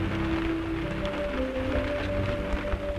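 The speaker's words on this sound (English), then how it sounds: "Oh! Rain!" Steady rain patters across the scene in a continuous broadband hiss, with a faint tonal hum running underneath throughout.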